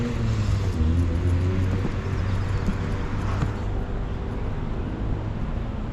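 A car drives past on a busy street in Taipa, Macau, its engine hum steady and fairly close under constant city traffic noise, no talking.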